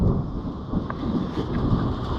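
Heavy rain from a thunderstorm pours down outdoors beside a John Deere 2020 tractor, a steady dense hiss with low rumbling filling the whole stretch and no talking.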